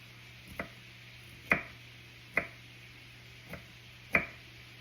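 A knife chops broccoli finely on a board for a pasta salad: five sharp, separate strikes at an uneven pace, fairly faint over a steady low hum, with no talking.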